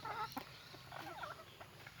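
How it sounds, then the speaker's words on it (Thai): Jungle fowl cluck softly on a rural farm in Thailand, a few faint scattered clucks and calls in a quiet outdoor setting. "ไก่ป่าสวยๆครับ"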